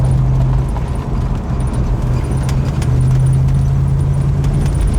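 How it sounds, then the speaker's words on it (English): A 1970 Chevelle SS with a 454 V8 idles loud and close in a steady, even rumble, with a faint ticking and light rattles layered over the low drone throughout. "You could just tell in that idle it was running really smooth, but just very responsive too."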